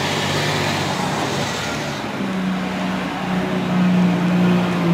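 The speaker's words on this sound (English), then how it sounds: "This is a trash truck." A trash truck drives past outdoors, a continuous rumbling engine roar with a low humming drone that shifts and grows slightly louder toward the end, heard without speech.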